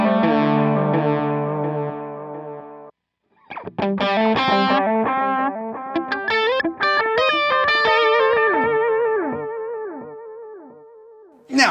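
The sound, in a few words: guitar delay effect, transistor tape setting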